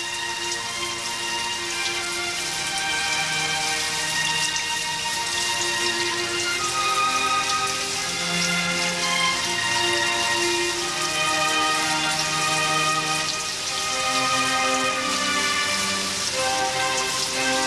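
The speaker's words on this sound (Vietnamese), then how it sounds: "Tôi nghĩ cơn mưa này chắc dài lắm." Heavy rain falls steadily outside a cave in a period drama scene, a dense continuous hiss of drops on surfaces holding an even level throughout with no talking.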